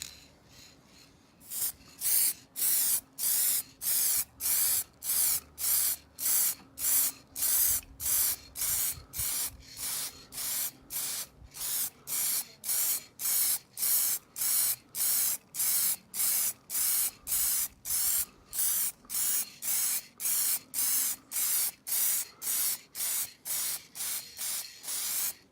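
An aerosol spray can lays light coats of clear coating onto the headlights of a Ford Transit camper van, a long series of short regular hissing bursts with brief pauses between them, close and alone.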